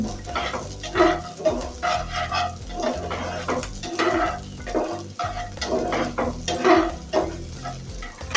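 Bitter gourd paste and chilli are stirred in a hot frying pan, the sizzle running continuously under repeated scraping strokes of a spoon against the pan, close and fairly loud, with no voice.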